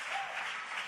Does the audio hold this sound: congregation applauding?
yes